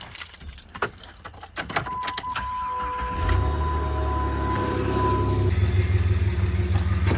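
A 2004 Jeep WJ engine cranks and settles into a steady idle after a muffler replacement, with a lingering exhaust leak. Its loud, continuous low rumble follows a few clanks and jingles.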